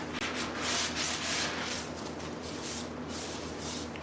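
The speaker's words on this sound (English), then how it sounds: "But you just take the sponge sander to them, gone, wipe all that dust off" A sponge sander rubs off thin trails of sealant on a spray-finished surface, a close, rhythmic series of quick abrasive strokes with no talking.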